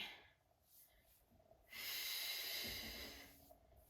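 Deep breathing during an intermediate Pilates exercise: a slow inhale, a pause, then a long, airy exhale close by, with another breath starting at the end.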